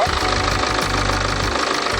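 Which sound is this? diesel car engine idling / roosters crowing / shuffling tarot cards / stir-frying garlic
diesel car engine idling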